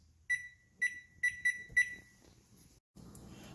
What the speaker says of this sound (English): Our 5-minute timer has just gone off.